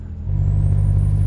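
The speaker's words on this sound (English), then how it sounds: "that sound is just the grinding gear sound" Heavy truck engine in Euro Truck Simulator 2 with a grinding gearbox from double clutching too fast, a loud steady low drone rising slightly in intensity, with no talk over it.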